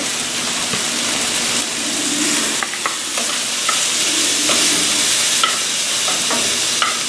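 Chicken sizzles steadily in a pan for lemon garlic chicken pasta, a dense, even crackle of frying fat with occasional sharper pops and light clinks, fairly close and with no talking.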